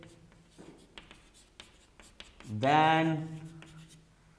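Chalk or marker writing on a board during a physics lesson on gravitation makes faint scattered taps and short scratchy strokes, with someone speaking briefly partway through.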